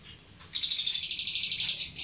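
A captive suren songbird lets out a rapid, high, pulsing trill that starts abruptly after a short quiet moment and runs on for over a second, close and clear with no talk.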